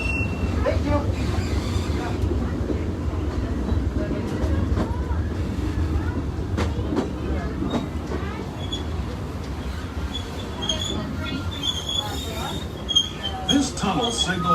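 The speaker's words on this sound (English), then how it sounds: "Remember to stay seated until the train comes to a full stop" Steady low rumble of a train rolling along rails, with occasional squeals and clicks from the wheels, continuous throughout with faint voices underneath.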